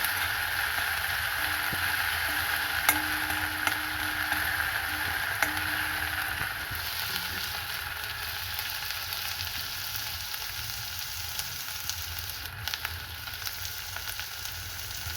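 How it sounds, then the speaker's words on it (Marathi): Chili and ginger paste sautés in a pan with a steady, soft sizzle and occasional light ticks of stirring, without any talking. "हिला छान परतून घ्यायचं आहे।"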